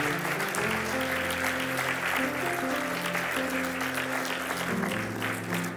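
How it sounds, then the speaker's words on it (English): A church congregation claps hands together in praise, steady sustained applause filling the room, with a low organ or keyboard chord held underneath throughout. "Can we give one more hand clap of praise to the Lord?"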